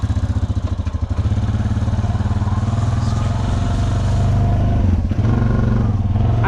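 A 420 quad bike engine rumbles steadily while being ridden on a dirt road, close and fairly loud with a pulsing, clattering drone that rises slightly as it picks up speed.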